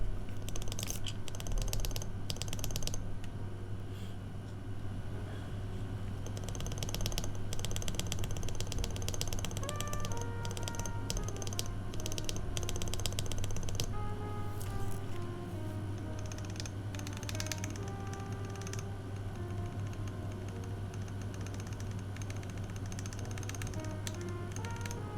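Keys on a TMO50 Founders Edition mechanical keyboard are typed steadily and close up to test the stabilizers, a continuous clacking over a low steady hum.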